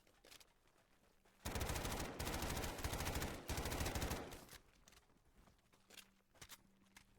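MP5 submachine gun fire in Call of Duty Black Ops 3 Zombies: two loud, rapid automatic bursts of several seconds each, separated by a short pause, followed by quieter scattered game sounds.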